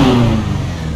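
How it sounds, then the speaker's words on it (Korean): An Annis 300R sports car from GTA 5 with a red engine, revving hard in a short burst that rises and then eases off, loud and close with no talking. "제가 엔진 소리 한번 들어볼게요."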